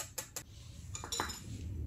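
Two quick metal clinks of a utensil against a pot while stirring an egg mixture, followed by softer scraping stirs, close and quiet over faint background noise with no talking.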